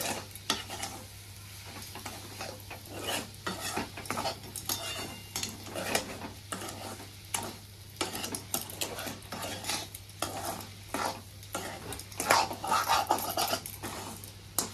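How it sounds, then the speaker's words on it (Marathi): A spoon stirs mango semolina shira with sugar in a pan, making repeated close scraping and rubbing strokes at an irregular pace over a low, steady background hum. "पूर्ण आपल्याला आता ही साखर ह्यात विरघळून घ्यायची आहे, तोपर्यंत हलवायचं आहे।"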